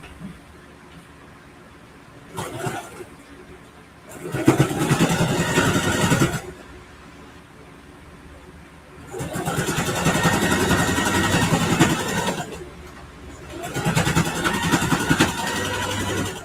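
A home sewing machine stitches through a thick quilted backpack flap in three bursts of rapid, whirring needle chatter. The second run is the longest and strains as it works. Short quiet pauses separate the bursts.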